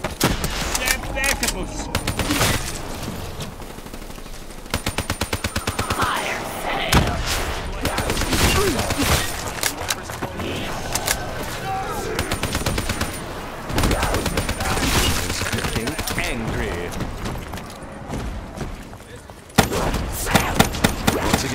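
Rapid automatic gunfire and scattered shots crackle through a Black Ops III Shadows of Evil zombies match, dense bursts layered with game effects and a voice speaking over the din.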